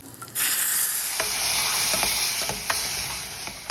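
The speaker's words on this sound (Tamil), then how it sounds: "பொறிப்படியாக இருக்கிற பச்சை மிளகாய், கருவேப்பிலையும் போட்டு நல்லா வதக்கிங்க" Chilies and curry leaves hit hot oil and burst into a loud, steady sizzle, with small pops and spoon scrapes as they are stirred.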